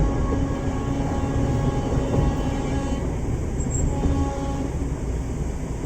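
A train crossing the Farakka Barrage bridge makes a steady, loud rumble with continuous rolling clatter that lasts throughout, with no speech.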